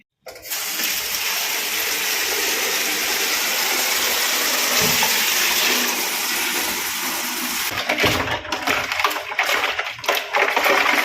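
Water pours into a tub or bucket to soak helmet-cleaning equipment, a steady loud rushing stream close by that turns uneven and splashy near the end.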